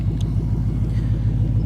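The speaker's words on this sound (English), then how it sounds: "This is MagnaFlow exhaust. Listen to this bad boy chop." A deep supercharged V8 idles close by in a 600 hp ProCharged Ford Mustang with a choppy, loping rumble, pulsing in a steady uneven rhythm through a MagnaFlow exhaust.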